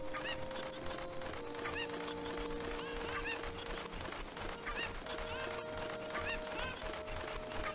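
Cucco chickens in Zelda: Ocarina of Time honk and cluck repeatedly in a dense, busy flock over steady game music, with no talking.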